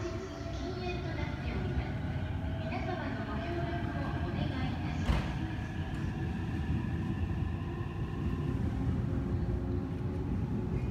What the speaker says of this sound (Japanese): 電車発車しております